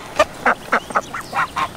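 Geese honking in a barnyard setting, a rapid series of about eight short, loud nasal calls in quick succession, close by and alone.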